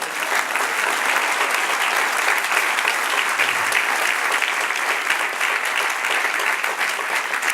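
A church congregation breaks into loud, dense applause at a Spanish-language evening service, the clapping sustained and even from start to finish.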